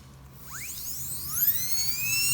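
A dental drill fitted with an extra-fine grit bur finishes an inlay or onlay tooth preparation, giving high, rising whines in short, near bursts over a steady hiss, with no talking.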